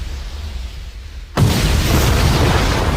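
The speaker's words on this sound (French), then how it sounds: "ça commence par une explosion" In the video game Lost Planet 3, after a second of low rumbling quiet, a sudden loud explosion bursts in and settles into a sustained roaring wash of noise.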